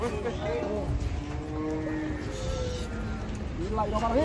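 A reluctant cow lying down and refusing to stand gives drawn-out moos, with people talking and lively voices around it throughout.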